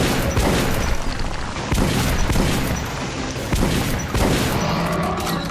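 Dense, continuous gunfire and booming impacts in the video game Metro Last Light, loud and sustained throughout with brief dips between bursts.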